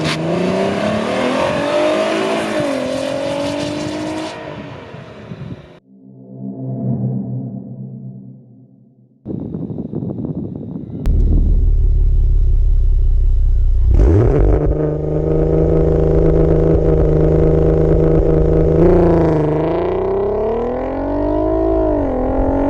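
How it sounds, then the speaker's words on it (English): Audi TT Mk2 with a 3.6 VR6 engine and Varex valved exhaust revving loudly, rising and falling engine notes broken by a brief quieter stretch, then sustained deep idling and further revs up close. "Now let me know what you think of this exhaust."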